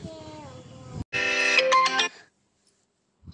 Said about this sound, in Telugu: మధ్యలో ఫోన్ వస్తుంది కదా, డిస్టర్బెన్స్ ఇగ్నోర్ చేయండి.